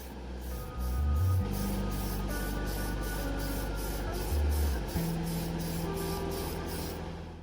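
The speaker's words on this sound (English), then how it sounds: "it is in a spray can, as you obviously can see, and that makes it a super easy application" An aerosol can of primer sprays in long, steady hissing bursts onto a Volkswagen T1 pickup scale model, close by, with a low rumble underneath.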